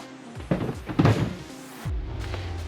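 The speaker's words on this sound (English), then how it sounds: "Now let me find somewhere to set your door panel." A removed Ford Excursion door panel is set down in a garage, giving a couple of close, dull plastic thunks and clatters, with a low mechanical hum shifting in the background and no talking.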